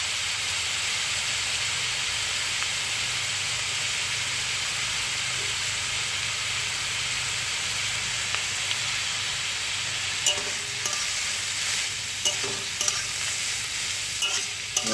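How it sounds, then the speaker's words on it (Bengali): Watermelon rind curry sizzles in a pan with a steady, loud frying hiss, and a few stirring clatters come toward the end as chopped potato goes in. "এবার যে আলুটা কুচিয়ে রেখেছিলাম সেই আলুটা দিয়ে দেবো।"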